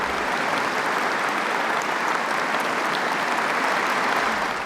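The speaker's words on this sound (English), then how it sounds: "unless it's the sound of their thunderous applause" Thunderous applause from a concert audience of more than a thousand people after a male choir performance, a dense, steady roar of clapping that holds at full strength throughout without pause.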